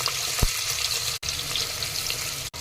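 Sliced onion sizzles in hot oil inside a pressure cooker, a steady close hiss with a brief thump early on and two short dropouts, no voices.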